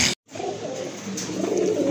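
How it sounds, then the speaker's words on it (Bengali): A pair of pigeons kept for sale makes a soft, low, continuous cooing murmur, close by, after a brief cut of silence at the start, with no talking. "মাশাল্লাহ খুবই সুন্দর কিউট এক জোড়া কবুতর"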